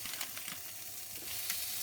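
Meatballs frying in a frying pan, a steady, fairly quiet sizzle with soft crackles and spits that keeps going on its own without any talk.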